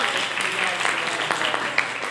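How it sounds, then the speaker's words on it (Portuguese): An audience applauds a speaker at a talk, the clapping a steady dense wash lasting the whole moment, fairly loud and close, with a few sharper individual claps standing out near the end. "Uma salva de palmas para você"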